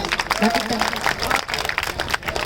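Applause from the crowd at a live stage show, fast clapping that stays loud and dense throughout, mixed with a voice or singing on top.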